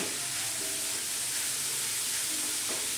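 Grated carrots for halwa cooking in ghee over a medium gas flame, a steady dense sizzle and hiss with faint stirring, close and continuous with no talk.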